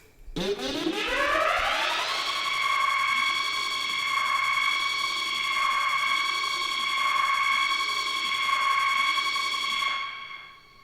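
A sci-fi synthesized effect standing in for a futuristic motorbike rises in a sweeping whoosh, then settles into a steady, loud, ringing harmonic drone with slow pulsing, cutting off near the end.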